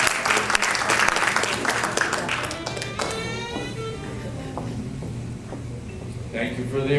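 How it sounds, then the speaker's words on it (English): Applause from an audience at a storytelling event rises briefly and fades into a few scattered claps, with a voice speaking over the tail. "Thank you for the applause"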